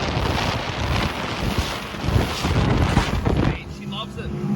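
A 2021 Quintrex 510 Freestyler motorboat runs at full throttle around 5,900 RPM, a loud, steady roar of engine and rushing wind that suddenly drops in intensity near the end, with someone talking over it.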